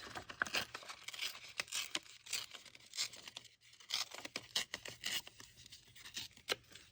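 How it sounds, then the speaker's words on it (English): Paper image being torn by hand from a book page for a moth journal craft: a run of close, crisp tearing and crinkling bursts, fairly quiet and irregular, with no talking. "So we're going to just tear this."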